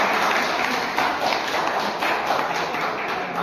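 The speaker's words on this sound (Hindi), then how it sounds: "एक बार जोरदार तालियों से" An audience claps steadily and fairly close at an Indian poster-unveiling event for the Maleshwar to Kishangarh Renwal kanwar yatra, with dense overlapping applause and no talk over it.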